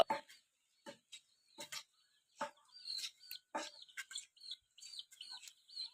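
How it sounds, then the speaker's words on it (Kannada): High, thin peeping of chicks in short scattered bursts, quiet and fairly close, with a few louder clucky calls among them. "ನೋಡಲ್ಲಿ ಕೋಳಿ ಮರಿಗಳು ಬಂತು"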